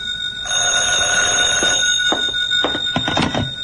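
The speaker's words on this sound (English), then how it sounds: "Now he's phoning the Falcon" Telephone ringing as a radio drama sound effect, a loud, insistent electric bell ring sustained for several seconds and followed by short clicks and rattles, no voices.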